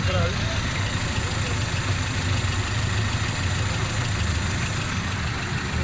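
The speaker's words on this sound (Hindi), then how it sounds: "गाड़ी स्टार्ट है माशाल्लाह।" A Suzuki Cultus EFI engine idles steadily just after starting, a continuous close mechanical rumble with a water pressure fault noted, while someone talks over it.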